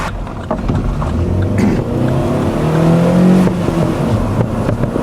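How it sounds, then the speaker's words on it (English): A front-mounted V10 engine revs inside a car, a loud, close growl that climbs in pitch, peaks, then eases back, heard from the cabin without any talk over it. "That is the sound of the V10 in the front."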